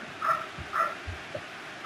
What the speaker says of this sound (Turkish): köpek çok bağırıyor